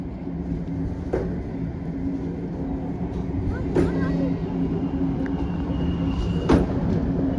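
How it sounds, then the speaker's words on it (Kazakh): Almaty–Tashkent passenger train, a steady low rumble heard from nearby with a few sharp knocks and clanks, while speech mixes in faintly. "Ташкент пойызы."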